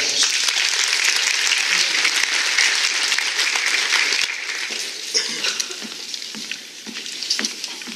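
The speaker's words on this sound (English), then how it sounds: "If you give them a round of applause." Crisp applause from an audience at a college honors day ceremony, strong and steady at first, then thinning into scattered claps after midway.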